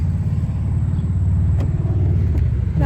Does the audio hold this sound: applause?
no